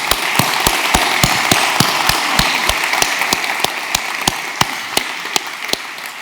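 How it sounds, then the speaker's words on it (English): A keynote audience at a GraphQL tech conference applauds: a continuous wash of clapping, with one crisp, evenly spaced clap standing out close by, and no speech. "could we have a round of applause for everyone who contributed to Apollo client?"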